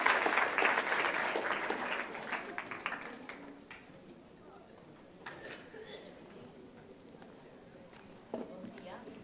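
Applause for a speaker at a university event starts fairly loud and then thins and fades over several seconds, ending in a few scattered claps and faint room noise.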